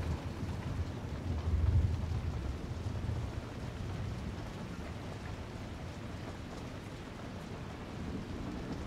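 A raging thunderstorm with steady rain lashes around a windmill on open heathland, a broad rushing wash with a low rumble swelling early on, with no voices.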